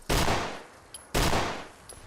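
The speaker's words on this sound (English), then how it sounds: "I'm hearing gunfire." Two loud, sharp gunshots a second apart in Fallout 4, each trailing off in a long echoing decay, followed by faint metallic clicks.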